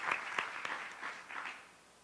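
A school-district audience applauds a principal with a short burst of scattered clapping that fades away within about two seconds, faint and distant.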